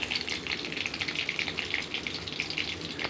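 Onion, green chillies, nigella, cumin and five-spice seeds frying in hot oil in a wok, giving a steady, close sizzle with crackling spits throughout and no voices.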